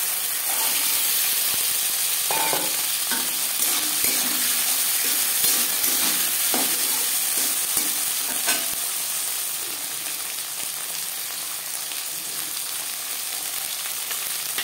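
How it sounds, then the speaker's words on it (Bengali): Green peas fry in hot refined oil with garam masala, giving a close, steady sizzle and hiss. Scraping stir strokes come through over the first half, and the frying then settles into a slightly quieter, even crackle. "দিয়ে দেবো মটরশুঁটি।"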